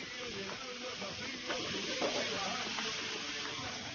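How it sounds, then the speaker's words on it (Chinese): Marinated catfish fries in a hot wok of oil, a steady broadband sizzle and hiss running throughout at moderate, close level with slight swells. "腌制好的鲶鱼放下去煎"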